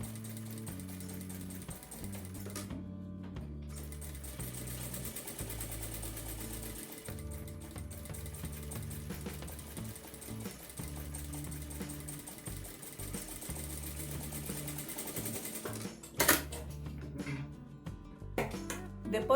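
A sewing machine stitches a notebook cover at stitch length 3.5, running in quiet, rapid mechanical bursts with short pauses between runs, faint and close.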